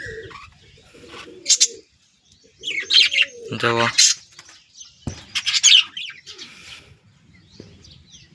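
Pigeon chicks in a cage coo and squawk in short, close bursts and chirps, with gaps of quiet between calls, while someone speaks briefly.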